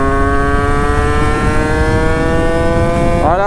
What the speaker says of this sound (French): Sa moto elle est pas trop bien réglée, mais ça marche quand même quand on tire dedans.